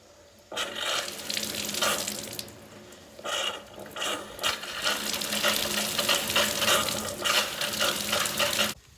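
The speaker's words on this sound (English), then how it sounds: "I'm gonna go turn on the water and see what happens" Water from a tap gushes steadily into a newly installed stock tank, a loud continuous splashing rush that starts abruptly, dips briefly, then runs on without talk.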